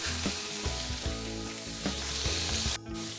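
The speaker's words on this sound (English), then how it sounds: "I'm going to sear that for probably about 3 minutes on each side to give it a nice brown." A fatty beef brisket sears fat side down in a hot pot, giving a loud close sizzle under a low humming background with periodic soft bumps, no one speaking.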